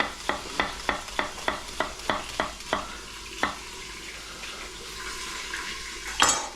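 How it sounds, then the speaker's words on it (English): Chunks of beef for Texas chile con carne sear in a pan, with about ten rhythmic scraping clicks of stirring followed by a steady, close sizzle and a louder clatter at the end. "That meat sounds like it's searing."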